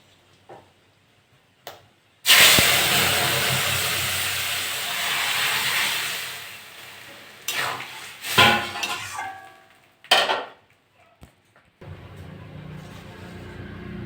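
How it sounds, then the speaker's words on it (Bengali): Lentil dal is poured into a hot pan of oil with fried dried chillies and panch phoron, bursting into a loud, sustained hiss and sizzle, followed by clinks of a utensil against the pan and a quieter, steady sizzle. "আমি এবার ডালটা ঢেলে দেবো।"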